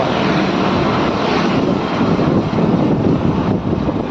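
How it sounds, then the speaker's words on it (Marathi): A helicopter drones loudly and continuously overhead near a creek in Malvan, a steady roaring engine rush with wind noise and no pauses. "हे काय हेलिकॉप्टर"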